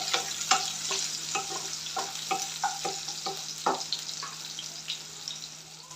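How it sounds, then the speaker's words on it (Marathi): Finely chopped onion fries in a pan for Aagri chicken rassa, a soft continuous sizzle punctuated by a regular series of sharp spatula scrapes and taps. "कांद्याला मस्त गोल्डन ब्राऊन कलर येईपर्यंत आपल्याला परतून घ्यायचं आहे"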